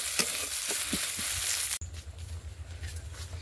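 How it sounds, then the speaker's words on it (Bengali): Fried radish-leaf vegetables go into a pan of frying onion and garlic, giving a bright sizzle with a few stirring knocks, then an abrupt cut to a quieter, steadier frying hiss. "এর মধ্যে দিয়ে দেবো ভাজা সবজিটা, মূলোর পাতা দিয়ে যে সবজিটা বানাচ্ছি ওই সবজিটা কিন্তু এই পেঁয়াজ রসুনের মধ্যে দিয়ে দেবো।"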